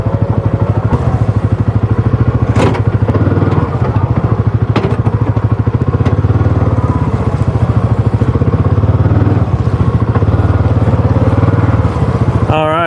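A 2024 Kawasaki Mule Pro MX utility vehicle climbs off-road with a loud, close, continuous engine rumble, with occasional clunks and thumps from the terrain and brief speech in the background.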